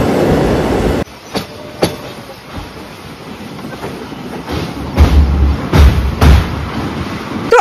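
Rhythmic rumble and clickety-clack of a passenger train in motion, heard from on board on a route through hilly country near Mumbai, with sharp rail-joint knocks and a sudden cut in level early on.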